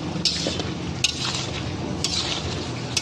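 Soybean chunks, potato and cauliflower being sautéed in a pan, with steady close scraping and stirring, a soft wet squish and faint frying underneath, punctuated by a few sharp clinks of a spatula against the pan.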